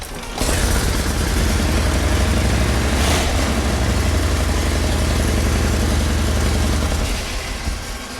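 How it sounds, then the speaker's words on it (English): A 1914 Excelsior motorcycle engine runs loudly and steadily, a close, throaty chugging roar that holds for several seconds before easing off. "Not bad for a 106-year-old motorcycle."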